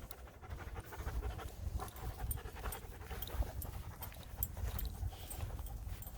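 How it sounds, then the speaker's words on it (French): A dog pants steadily on a walk, its quick breaths loud and close, with what sounds like footsteps or clopping running underneath throughout and no talking. "c'est un bon chien"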